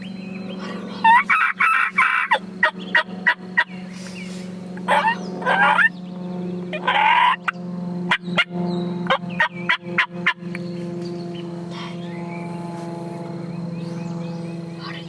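Young wild turkey jakes gobble repeatedly on public land in Tennessee during a hunt, with loud, close bursts of rattling gobbles over a steady low hum.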